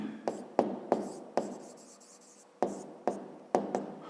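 Pen strokes on paper while writing out answers to a fifth-grade maths exercise: a series of short, crisp scratches and taps, close and distinct, coming in irregular bursts with quiet gaps between them.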